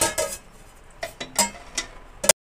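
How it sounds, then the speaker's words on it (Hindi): Sugar is spooned into a pot of sheer khurma in a series of close, sharp metallic clinks and scrapes of spoon against pot. The sounds come irregularly and are separated by quiet gaps, ending with a final louder clink. "अब मैं शक्कर डालूँगी।"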